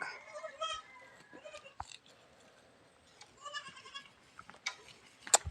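Newborn goat kids and their mother bleat in short, scattered calls at close range, mixed with a voice talking in a farm pen.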